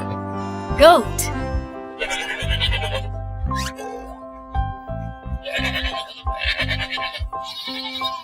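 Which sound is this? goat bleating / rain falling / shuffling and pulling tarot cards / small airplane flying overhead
goat bleating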